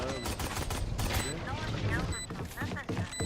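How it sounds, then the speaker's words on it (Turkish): Rapid gunfire bursts from the Valorant video game, sharp repeated shots layered with game effects and overlapping voices talking throughout. "Vurdum Raze'e kafadan"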